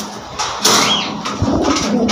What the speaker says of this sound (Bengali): মাশাআল্লাহ অনেক ভালো একটা কবুতর